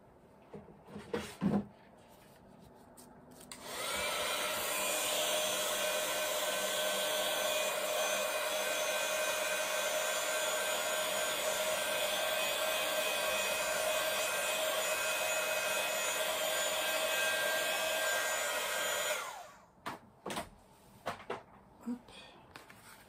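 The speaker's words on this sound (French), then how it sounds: "Je vais sécher un petit peu avec le heat gun." A heat gun dries watercolour paint, switching on after a few small handling knocks and blowing in a loud, steady whirring roar for about fifteen seconds before cutting off, followed by more light clatter.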